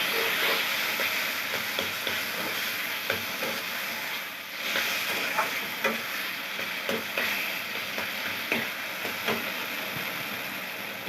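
Taro curry fries and is stirred in a pan, making a continuous close sizzle broken by scattered scraping clicks from the stirring utensil.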